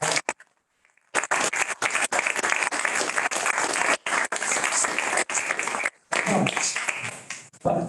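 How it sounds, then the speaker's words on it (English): Audience applause at a doctoral school graduation ceremony: loud, dense clapping fills most of the clip, with a brief pause near the start and short dips toward the end. "So I would like you to applaud all of them."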